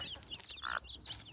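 A big rooster gives a single brief cluck, fairly faint against a steady, noisy outdoor background.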